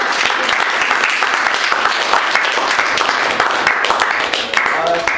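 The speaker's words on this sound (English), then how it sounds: "Everybody give a round of applause for John." Crowd applause for a man named John called up at a public gathering on Arizona prohibition, loud sustained clapping with scattered voices and cheers mixed in throughout.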